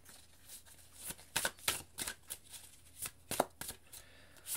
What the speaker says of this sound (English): We'll pull all 10 cards before I start channeling